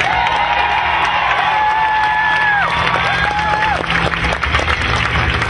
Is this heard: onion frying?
no